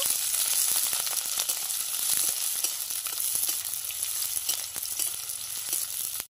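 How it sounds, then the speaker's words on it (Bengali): Chopped green chilli and onion fry in hot oil, a loud, continuous hiss and crackle punctuated by light clicks of stirring throughout. "কাঁচা লঙ্কা কুচি আর পেঁয়াজ কুচিটা দিয়ে দেবো তেলের ওপরে। ভালোভাবে নাড়িয়ে নেব।"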